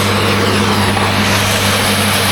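Mixer grinder grinding corn in winter, a loud, close, steady mechanical roar with a low throbbing hum that runs without a break.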